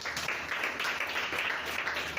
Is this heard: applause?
yes